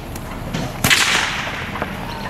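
A single sharp stock whip crack rings out, loud and close, with a few fainter snaps around it against an open outdoor farm background.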